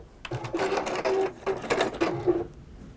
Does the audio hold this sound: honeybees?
no